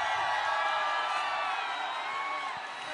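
A big stadium concert crowd at Dinamo Stadium in Minsk cheers and applauds in a loud, sustained roar of whoops and shouts that holds steady and fades slightly at the end.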